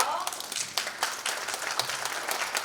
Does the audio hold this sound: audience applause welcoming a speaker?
yes